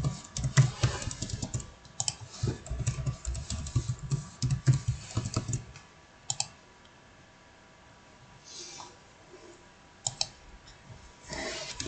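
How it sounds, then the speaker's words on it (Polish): Password being typed on a computer keyboard: bursts of quick, clattering key clicks fill the first half, then thin out to a few isolated taps and short runs, close and fairly loud with no voices. "Wpisujemy hasło."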